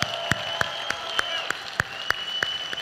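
An audience at a Memphis event claps, the sharp claps landing in a steady even rhythm at moderate distance, with faint crowd murmur.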